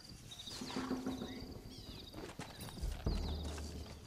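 Horse hooves in Red Dead Redemption, a steady clip-clop of footfalls drawing closer under ambient birdsong and wind, fairly faint.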